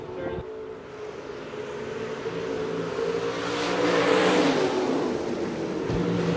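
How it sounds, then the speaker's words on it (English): IMCA stock cars roar around the high banks of Shelby County Speedway, a steady engine drone that swells as cars pass near and fades, with a commentator talking over it. "This is IMCA stock car racing on the high banks of the"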